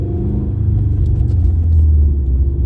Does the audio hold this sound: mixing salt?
no